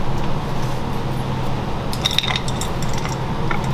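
A hand ratchet works on a bolt under a 2013 Mercedes GL550 during an alternator and voltage regulator replacement, with a few quick metallic clicks and clinks over a steady background hum.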